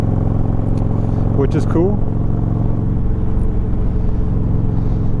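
A Harley-Davidson motorcycle rumbles steadily close by with a deep, even engine drone, while someone talks briefly over it before the engine carries on alone.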